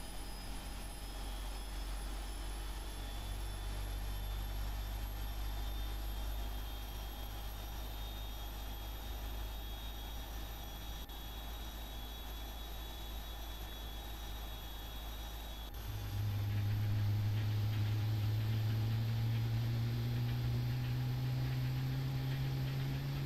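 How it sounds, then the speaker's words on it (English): Number two engine on a jet airliner spooling up in the Prepar3D flight simulator, a steady whine and roar that jumps louder partway through as a rising tone climbs, with no talking. "let you guys listen and watch as the number two engine comes online"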